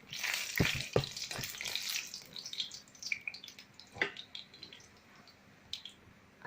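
Mustard, nigella and cumin seeds crackling in hot oil while making Assamese yellow lentil dal, with sharp pops and crackles, louder at first, then thinning to sparse scattered spits.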